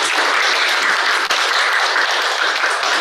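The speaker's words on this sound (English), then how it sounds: "please give a round of applause to Dr." An audience at a public lecture claps steadily for the speaker, dense continuous applause filling the room without a break.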